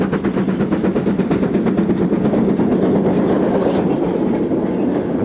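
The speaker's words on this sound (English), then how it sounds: "a standard Class 4 Mogul passes with a Bournemouth-bound local" A British Railways Standard Class 4 Mogul steam locomotive passes hauling a Bournemouth-bound local train, a loud, continuous rumble with steady clickety-clack of wheels over rail joints, sustained throughout.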